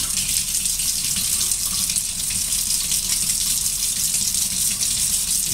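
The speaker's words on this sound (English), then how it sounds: "I'm going to put warm water in here so you're not shocking it." Warm water running from a tap into a pan in a kitchen, a steady, loud hissing gush that continues without break and without any voices.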